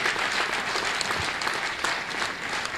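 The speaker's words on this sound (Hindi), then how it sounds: "तालियां इनके लिए।" Sustained audience applause at a religious ceremony welcoming a Jain monk, a crowd clapping evenly for a few seconds with no talk over it.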